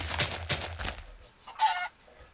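A Minecraft chicken gives a few quick clucks followed by a brief squawk, fairly faint and close, with no talking.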